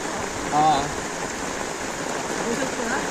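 Steady rain falls around Kopar station amid floodwater, a continuous wash of noise with someone talking over it and a brief whistle-like tone near the start.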